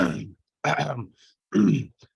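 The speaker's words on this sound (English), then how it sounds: "I used to clear my throat like" A person with Tourette's syndrome clears their throat as a tic, in three harsh, guttural bursts separated by short pauses, close and fairly loud with no other sound around them.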